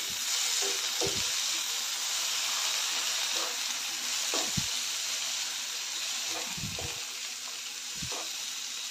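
Onion and tomato roast in a pan for a stuffed bell pepper dish, making a steady soft sizzling hiss with a few scattered low utensil knocks.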